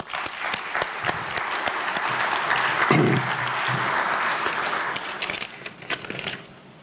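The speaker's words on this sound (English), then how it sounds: "Really appreciate, once again, round of applause." Sustained applause from a conference audience after a keynote address at a maritime and port industry event, steady dense clapping filling the room for several seconds before tapering off at the end.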